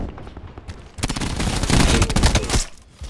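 A loud, sustained burst of rapid gunfire in Call of Duty: Black Ops 4, starting abruptly after a quieter opening and cutting off near the end.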